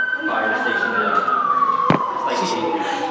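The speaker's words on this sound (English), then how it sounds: "this is like the 10th time the sirens went off" An emergency vehicle siren wails steadily outside a classroom, a continuous gliding tone slowly falling in pitch across the whole stretch, with a sharp knock in the middle and faint room noise beneath.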